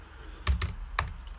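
A few quick keystrokes on a computer keyboard while renaming macros in music software: three or four crisp clicks spaced close together, near and clear, with no talking.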